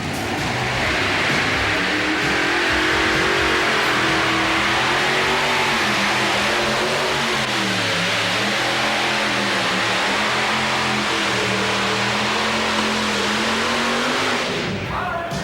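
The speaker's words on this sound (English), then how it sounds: "there's no mistaking the ear-splitting cry of 3 and 4 high-dollar race engines found in the modified division" Several high-dollar modified-division tractor pulling race engines roar loud and continuous, revving with wavering pitch throughout, with no talk.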